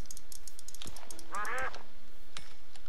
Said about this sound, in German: Eine Ente, die kann ich doch töten